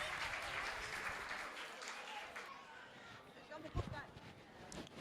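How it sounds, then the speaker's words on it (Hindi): Audience clapping for a children's performance at a Jain temple gathering in Delhi, a busy crowd wash that fades partway through, with voices and movement noise underneath. "तालियां तो बजा दो, बच्चों ने मेरे कितना अच्छा करा है"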